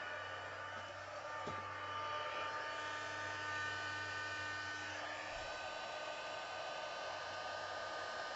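A heat tool blows steadily to melt black embossing powder over a stamped image and sentiment on a winter card, a continuous close whoosh held throughout with no talking.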